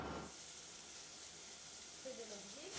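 Pancetta and shallots fry in a pan, melting without browning, a steady close sizzle and hiss, with brief faint speech near the end.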